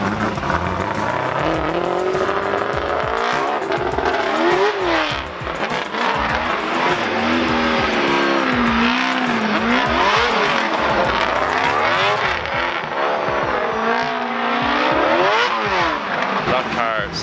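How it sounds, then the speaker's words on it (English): A drift car revs hard and its tires squeal repeatedly in a busy, loud stretch of rising and falling engine notes, with people talking over the racket at an event in Riga, Latvia. "That car sounds wicked."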